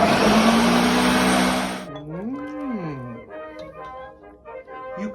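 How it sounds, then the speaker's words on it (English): A kitchen blender chopping cucumbers for soup whirs loudly and close for about two seconds, then winds down, its motor pitch dipping and rising before fading. "I'll be putting these cucumbers in a blender"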